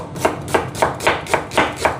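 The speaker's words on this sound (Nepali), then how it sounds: "अब साइडमा चाहिँ फेरि अब हामी प्याज काट्नेछौँ।" A knife chops onions finely on a board, seven even, crisp strikes coming at a steady quick rhythm, close and clear with no talking.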